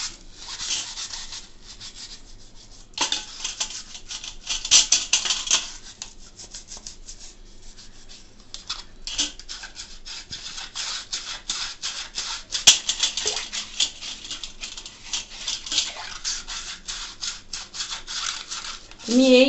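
A brush scrubs a plastic tea strainer in cooled water, producing steady rasping, rubbing strokes that rise and fall in bursts, with someone talking between them.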